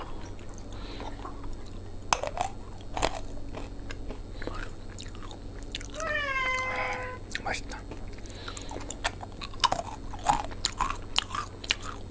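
Peanuts are chewed close to the microphone, giving crunchy bites and wet mastication in an uneven rhythm, with a brief hum-like vocal sound in the middle.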